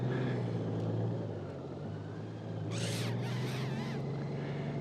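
Honda Goldwing motorcycle riding along a residential street, a steady low engine drone with road and wind noise, easing slightly before picking up again, with brief higher-pitched chirps partway through.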